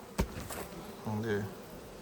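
Honey bees hum and buzz around an opened beehive during honey extraction, a soft close drone with a brief knock near the start and faint voice-like tones.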